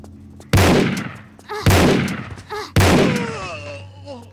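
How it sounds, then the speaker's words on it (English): Three loud, booming shotgun blasts from Tomb Raider custom level Coyote Creek, evenly spaced about a second apart, each with a long decaying tail, the last followed by a brief ringing echo. "Now I'm going to use my shotgun again"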